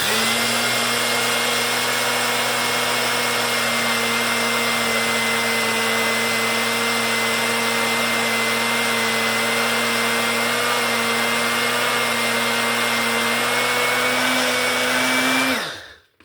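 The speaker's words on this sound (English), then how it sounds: "I'm just gonna grind this up." Blender grinding oats into fine flour, a loud, continuous high motor whine held steady for about fifteen seconds before cutting off abruptly at the end, with no talking.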